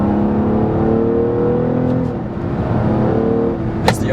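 A Nissan Maxima sports sedan with a continuously variable transmission accelerating, its engine drone climbing and dipping through a simulated gear shift, heard steadily from inside the car with no speech.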